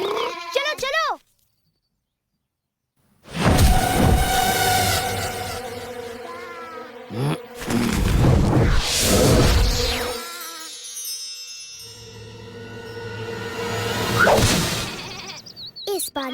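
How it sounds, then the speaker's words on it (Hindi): Sheep bleat in a pastoral scene from a Krishna tale, with tremulous calls over a busy mix of voices and music, buzzy bursts rising and falling across the flock. "इस बार मैं सुदामा की नाक के नीचे से ये सारी भेड़ें चुरा ले जाऊंगा"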